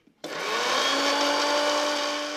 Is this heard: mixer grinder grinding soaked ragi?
yes